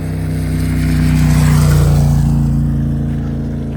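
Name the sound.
motorcycle approaching on a Camino trail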